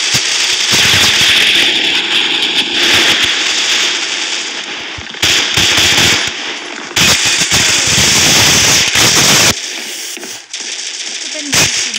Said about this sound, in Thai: จะเป็นแบบนี้เวลาเล่นเกม Rainbow Six หรือเกม FPS เวลายิงอ่ะ